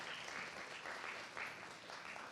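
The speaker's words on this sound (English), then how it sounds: "Let's clap it up one more time for Sir Champagne." An audience at a Black arts showcase claps steadily for performer Sir Champagne, a dense, even wash of applause heard from within the room, fairly soft and continuous for the whole stretch.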